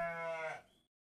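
A human voice imitating a sheep's bleat, a single short wavering nasal baa lasting under a second before cutting to silence.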